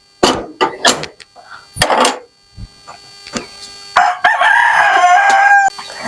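Chickens and a rooster in a chicken house: sharp close clucks and squawks, then a loud sustained rooster crow near the end, with the birds sounding alone.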